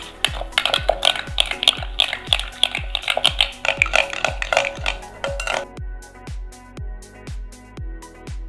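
Spoon or whisk stirring lemon juice and spices for a fish marinade in a dish, a steady series of sharp clinks against the bowl, brisk and busy at first, then slower evenly spaced taps, close up and alone.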